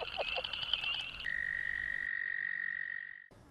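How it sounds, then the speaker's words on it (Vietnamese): Male frogs at a Vietnamese frog-breeding farm call continuously in a fairly close, high-pitched trilling croak. One voice holds a long, even call for about two seconds before it breaks off. "có tiếng kêu liên tục của ếch đực"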